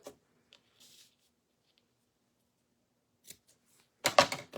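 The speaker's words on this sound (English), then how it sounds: "We'll snip off our edges. It's a little long. Let's snip it again." Scissors snip the edges off paper in a quiet room: a few faint isolated cuts, then a louder cluster of close crisp snips at the end.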